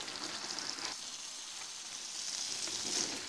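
Brinjal (eggplant) masala frying in a pan, a dense continuous sizzle and crackle heard up close, swelling slightly toward the end with occasional faint stirring.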